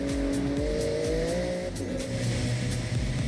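Cars race through an open-world Japanese setting in Forza Horizon 6, with engines revving and climbing in pitch, tires squealing, and vehicles sweeping past close and loud over a steady driving roar.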